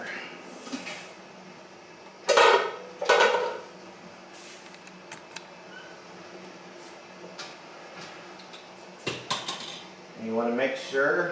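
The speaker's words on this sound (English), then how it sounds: "I'm going to use my jar lifters and put them in the canner" Glass canning jars clink and knock against a metal canner as jar lifters place them in, a few separate bursts, with quieter handling noises and a brief splash of water between them.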